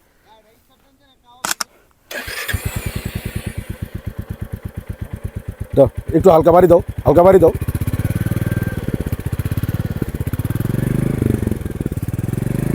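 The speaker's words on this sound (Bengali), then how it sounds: "ইঞ্জিনের সাউন্ডটা ভাই শুনতে চাইলো তাই বাইরে শোনাই দিলাম ইঞ্জিনের সাউন্ডটা" A Royal Enfield Meteor 350 motorcycle fires up after a couple of quiet clicks and settles into a steady, close thumping idle with a few revs, while someone speaks over it.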